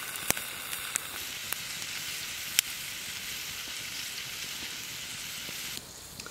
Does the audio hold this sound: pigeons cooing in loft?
no